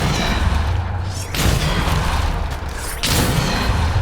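A booming Depulso spell blast in Hogwarts Legacy, with heavy low-end impacts and crashing bursts rolling across the scene, one after another, loud and close.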